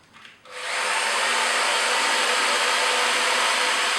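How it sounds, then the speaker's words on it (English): A Festool Rotex 90 sander fitted with a Scotch-Brite pad runs in rotary mode at low speed on a table finish, starting up after a brief pause and then holding a steady, close whirring hiss. "this Scotch-Brite on my Rotex 90. This is in the rotary position, so it's going to go in big circles."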